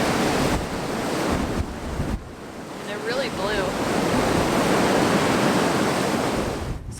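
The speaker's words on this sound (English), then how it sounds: "And then you just get to watch the waves crashing up." Ocean waves crash and surge near a pool on the Big Island of Hawaii, forming a steady, loud roar mixed with wind buffeting the microphone, while a voice speaks briefly.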